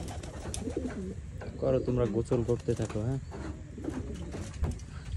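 Pigeons coo repeatedly in a village home courtyard, the soft rolling calls running close by beneath and between a person's steady talking.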